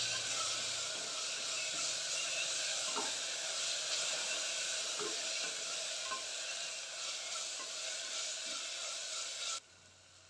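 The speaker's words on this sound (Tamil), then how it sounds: "இஞ்சி பூண்டோட பச்சை மணம் போகிறது வரைக்கும் நல்லா வதக்கிக்கோங்க." Ginger garlic paste sautéing in a pan for mushroom biryani, a soft, steady sizzle with faint scrapes from stirring that stops abruptly near the end.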